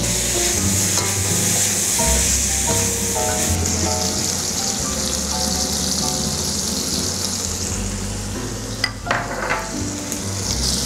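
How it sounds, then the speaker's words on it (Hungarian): Fish frying in butter in a pan, with fennel and onion nearby, giving a continuous loud sizzle with occasional stirring clinks and scrapes, close up with no talk. "vajban érdemes sütni"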